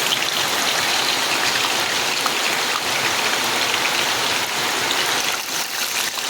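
Three dry red chillies and a bay leaf sizzling in hot oil, a steady dense crackling hiss that stays loud and even throughout with no talk.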